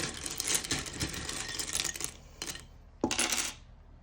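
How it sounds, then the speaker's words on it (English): Divination tiles and small charms clatter and rattle continuously as they are tipped out and spread by hand, with a sharper burst of clinking near the end. "let's get tiles and charms out next. This might get a little bit loud"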